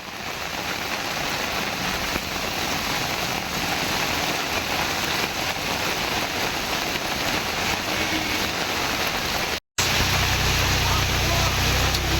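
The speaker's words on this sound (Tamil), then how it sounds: "ராமேஸ்வரத்தில் பெய்து வரும் கனமழையால் கடைகளுக்குள் தண்ணீர் புகுந்ததால் வியாபாரிகள் கடுமையாக பாதிக்கப்பட்டுள்ளனர்" Heavy rain pours down in Rameswaram as a dense, unbroken hiss that holds at an even loudness throughout, with a brief dropout near the end.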